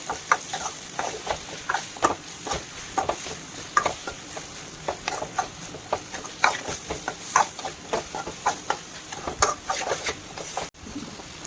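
A spoon stirs ivy gourd and onion fry, mixed with ground tamarind paste, in a hot pan. The constant low sizzle is broken by quick, rhythmic scrapes and taps against the pan, close and clear throughout.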